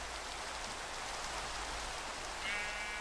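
Rain in the video game Into the Fog: a steady, soft hiss of falling drops, fairly faint and unbroken, with a brief brighter tone near the end.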